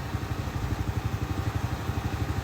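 A motorcycle bought for about 10,000 yuan in rural Laos idles close by with a steady, lumpy low putter and regular rhythmic pulses, running alone with no talk.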